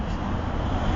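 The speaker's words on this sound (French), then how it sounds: "Et là c'est un bruit de bus" A low, steady rumble of a passing bus, broadband and continuous, with traffic noise and no voices.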